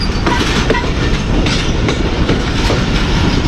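A Pakistani passenger train rolls along the main line between Lahore and Faisalabad behind its locomotive, loud and close, with continuous rumbling and rhythmic clickety-clack of wheels over rail joints throughout.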